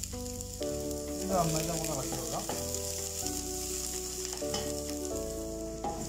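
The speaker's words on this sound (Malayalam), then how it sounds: "ഇഞ്ചി വെളുത്തുള്ളിയൊക്കെ നന്നായിട്ട് ഒന്ന് മൂത്ത് തരട്ടെ" Ginger, garlic, curry leaves and onion frying in a pan as they are stirred, a constant soft sizzle under a voice speaking throughout, with occasional utensil scrapes.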